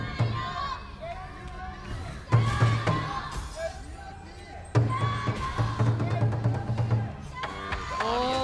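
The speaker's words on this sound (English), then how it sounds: "Oh, the crowd." A live esports crowd at the KIC2023 Wild Card Qualifiers roars in swelling waves, with drum thumps punching through, under continuous excited commentary.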